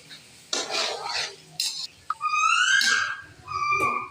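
A spoon stirring and mixing aloo baingan curry with capsicum and garam masala in a pot, a few scraping strokes with short clinks, close by, with bright squeaky metal-on-pot scrapes in the second half.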